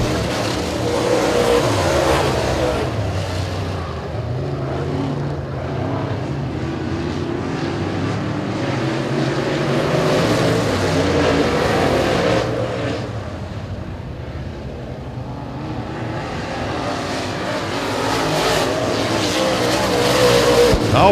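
E-Mod race cars lapping Stateline Speedway during a heat race, engines roaring steadily as the pack passes, swelling and fading with the cars and briefly dipping midway.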